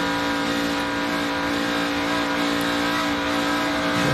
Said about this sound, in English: You can hear he was feeding the throttle there